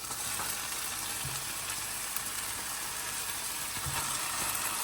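Marinated chicken sizzling in a hot pan for a South Indian Chettinad curry, a steady bright hiss of frying with a few faint clinks, no talking.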